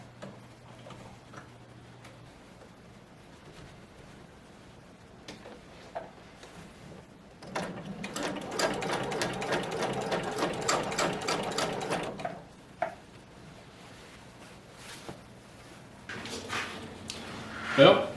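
A sewing machine stitches car headliner fabric in a fast, even mechanical chatter lasting several seconds, set between quieter stretches with scattered clicks and handling noises.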